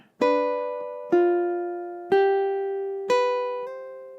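A slow ukulele phrase: four distinct plucked chords spaced about a second apart, each ringing and fading before the next, played alone and close.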